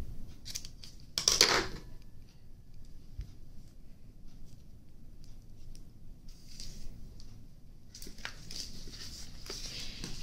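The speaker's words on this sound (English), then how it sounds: "you can trim off some of the end." Scissors snip once, crisp and close, trimming the end off a faux vintage tool wrap, followed by quiet handling rustles and soft crinkling of the material.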